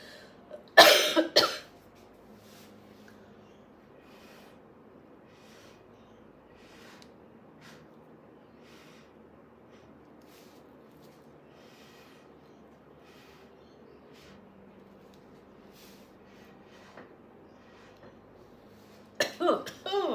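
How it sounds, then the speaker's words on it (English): A person coughing near the microphone, one harsh burst of several coughs at the start and another short fit at the end, with a long quiet stretch between. "It's made me cough."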